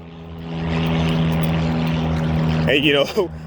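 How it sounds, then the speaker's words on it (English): A propeller airplane flies overhead near an airport, its steady droning hum swelling in and holding loud, with a voice cutting in briefly near the end. "The airport is in this area, so there's gonna be a lot of airplanes flying around"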